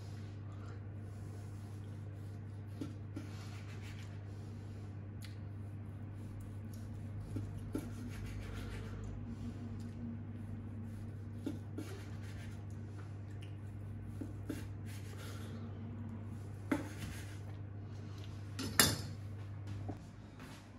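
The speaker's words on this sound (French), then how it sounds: "Allez, je vais dresser l'assiette." Stuffed squid with fennel being plated, soft scattered clinks and scrapes of utensils on a plate over a low steady hum, with a sharper clatter near the end and no talking.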